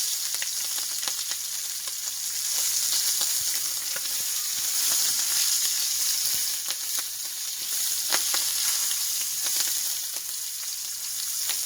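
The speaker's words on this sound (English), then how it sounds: "Make sure they stay where the oil is, so the oil will help cooking the shrimp." Shrimp and chicken sizzle steadily in hot oil in a pan for a chicken and shrimp stir fry, a dense, continuous crackle with scattered sharper pops and no voices.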